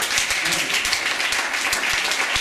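Steady, dense applause from an audience at a Rotary Club scholarship award ceremony, filling the whole stretch at an even level with occasional low thumps underneath.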